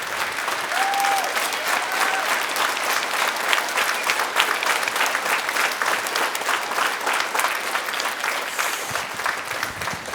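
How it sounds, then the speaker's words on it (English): An audience at a school Veterans Day presentation applauds a veteran who stands to face them, the clapping full and sustained for around ten seconds, loud and unbroken. "let's all give him a round of applause for doing what he did"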